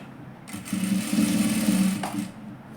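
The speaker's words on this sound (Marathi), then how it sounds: "असं ठेवूनच हा शिवून घेऊया." A sewing machine stitches a katori blouse in a short, steady run of rapid mechanical clatter, starting and stopping cleanly, with no voices.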